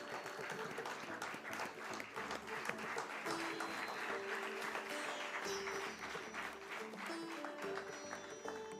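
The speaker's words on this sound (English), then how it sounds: "let's welcome them with a very warm round of applause" Warm applause from the audience at a stock exchange listing ceremony in a hall, steady and sustained throughout with a faint musical tone underneath.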